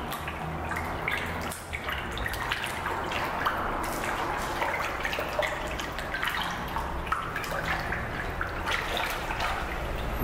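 Watery sloshing and dripping as recycled paper pulp is stirred and dissolved in water by hand, a continuous busy splashing with small drips and trickles, close and fairly loud, no talking.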